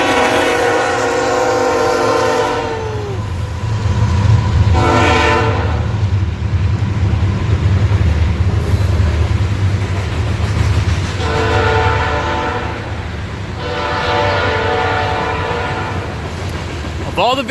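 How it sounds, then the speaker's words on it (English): A train rumbles past nearby, its horn blaring in long harmonic blasts several times over the steady roar of the cars. "the train never came through and interrupted, it'd have to come through and interrupt my video right now"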